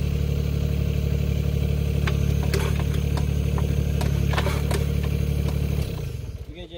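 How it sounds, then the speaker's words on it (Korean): Green TE1000 mini excavator diesel engine running at a steady loud idle with mechanical clatter and knocks, then winding down as it shuts off. "시동 껐다가 다시 키고 하겠습니다."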